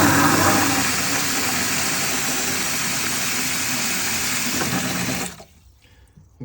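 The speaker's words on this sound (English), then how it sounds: "I'm gonna go out and try the spigot into a bucket of water, and we'll see what we get" Water from an outdoor spigot on a PEX water main gushes into a small bucket with a steady, loud rushing splash, then cuts off abruptly near the end, leaving near silence.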